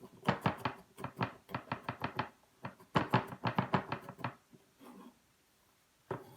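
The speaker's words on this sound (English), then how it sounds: "So I'm going to cut this all up, because basically what you want is about 1 tablespoon of minced garlic." A knife mincing garlic on a cutting board makes quick, crisp chops in rhythmic bursts, close and clear, with a few softer scraping sounds before a final single chop.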